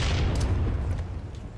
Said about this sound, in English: He's right there with the rocket launcher.